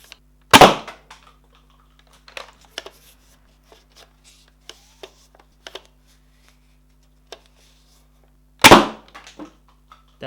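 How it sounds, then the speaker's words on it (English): A modded Nerf Super Sledgefire fires two loud, sharp shots of three darts from a single barrel, several seconds apart, with light clicks and handling noises in between, outdoors and with no talking. "Now we're going to test shooting 3 darts stuffed down a single barrel"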